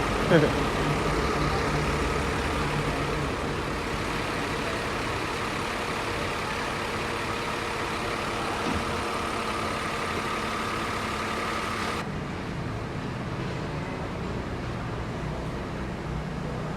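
A Rosalia Indah bus arrives at the Palembang depot in the afternoon, its heavy diesel engine rumbling steadily nearby, idling throughout with a slight change in tone near the end.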